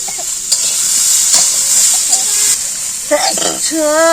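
Fish curry being stir-fried in a pan in a village kitchen sizzles loudly and close with scraping strokes, and a voice cuts in near the end.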